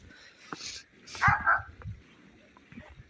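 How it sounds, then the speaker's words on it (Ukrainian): A dog barks and yips a couple of times at a distance outdoors in a cold winter garden, faint and brief amid quiet background. "зараз та собака знову он бігає. Почнуть знову гавкати зараз."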